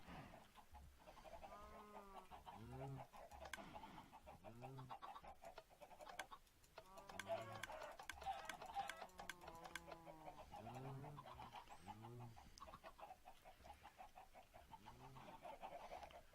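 Chickens in the video game Minecraft cluck in short, repeated bursts, several calls overlapping at a fairly soft level against a steady low background hum, with no talking.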